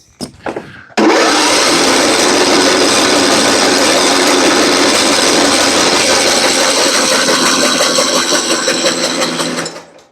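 A John Deere mower's Kohler Command engine with a carburetor problem cranks over steadily for about nine seconds without firing, a loud, close, continuous whirring drone that starts abruptly after a brief click.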